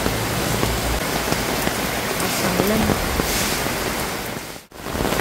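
Heavy typhoon rain pours steadily and loudly outdoors in the Philippines, a dense unbroken roar with a brief voice and a short dip near the end.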